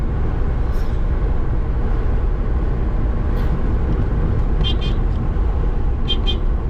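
A car cruising at speed in fifth gear, heard from inside as a loud, steady engine and road rumble with no break, plus faint high tones near the end.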